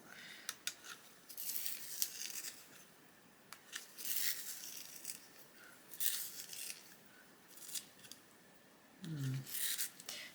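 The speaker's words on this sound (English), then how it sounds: "I'm going to have to use my Prisma sharpener to sharpen it because it needs sharpening" A coloured pencil is turned in a Prisma sharpener, producing faint, dry grinding bursts in irregular spurts with brief pauses, close and quiet.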